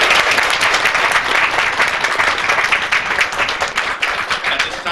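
Steady applause from an audience at a city commission meeting, many hands clapping densely and evenly, loud and close, holding throughout with no talk.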